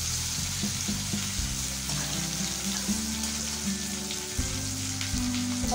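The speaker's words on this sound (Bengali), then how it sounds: "পটলগুলো একটু ভাজা ভাজা হোক।" Sliced pointed gourd (potol) fries in a pan, a soft continuous sizzle with faint scraping and clinks of utensils, no voices.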